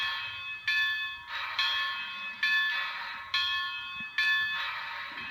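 A Bachmann Spectrum 4-4-0 model steam locomotive's electronic bell rings while idling, in steady repeated strokes, bright and metallic, about every second, moderately loud with no talking.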